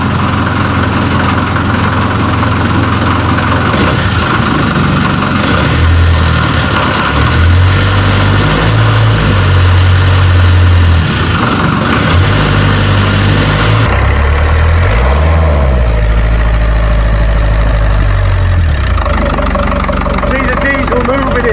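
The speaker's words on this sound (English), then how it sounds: "Nothing sounds like a diesel." A Land Rover diesel engine idles steadily after its first start in three years, a loud, continuous low rumble that shifts in pitch partway through and carries on alone without talk.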